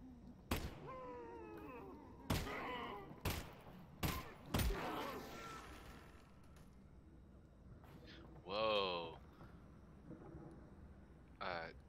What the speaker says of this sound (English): Jay, do that explosion again?